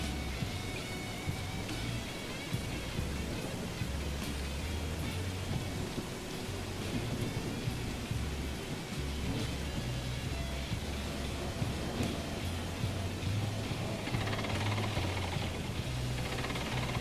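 Heavy rain pours steadily in the railroad video game Railroads Online, a dense hiss of raindrops with low rumbling undertones, continuous and fairly loud throughout.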